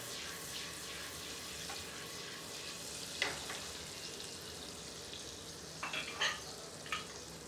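Popcorn kernels frying in a pan on the stove, a soft continuous hiss with a few brief scraping stirs, fairly faint and close.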